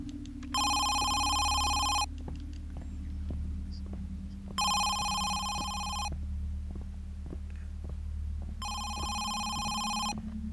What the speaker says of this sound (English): It's so weird, that phone sounded like it was coming from upstairs.